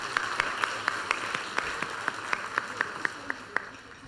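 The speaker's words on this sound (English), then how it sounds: "join me in a round of preemptive applause for all the hard work that they've put into that" Audience applause for presenters at a public-health panel on syndemic approaches, a quiet, regular run of single distinct claps heard from a slight distance, fading slightly toward the end.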